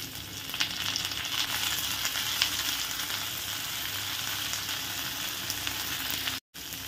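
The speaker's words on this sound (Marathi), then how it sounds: "कांदा थोड़ा फ्राय होत आला की आपण यात 2 मोठे चिरलेले टोमॅटो ॲड करूया" Onion and chopped tomatoes sizzle in a pan for a spicy chole masala, a steady close-up crackling hiss with faint stirring ticks and a brief dropout near the end.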